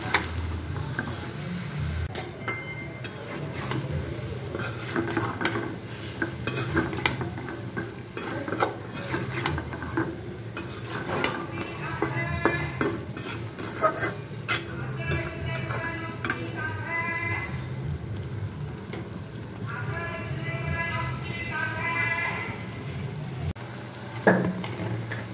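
Hilsa fish with bottle gourd greens sautéing in a pan, a steady sizzle under frequent spatula scrapes and clinks against the pan, close and continuous throughout.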